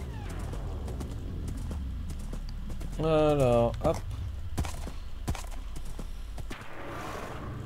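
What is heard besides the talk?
horse hooves clip-clopping in video game Minecraft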